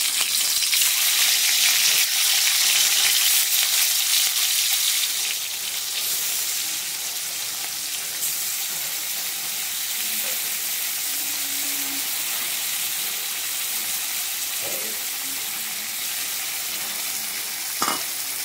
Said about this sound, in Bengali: তো তেলটা গরম হয়ে গেলে চিংড়ি মাছটাকে ভেজে নিয়ে ফিরে আসছি।